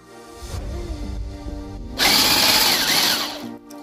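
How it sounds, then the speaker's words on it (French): A small electric whisk beating eggs with sugar in a bowl, a steady motor whine that jumps to a louder, harsher whir partway through as the beaters churn the mixture, close up with no talk. "moi je prends un petit fouet électrique"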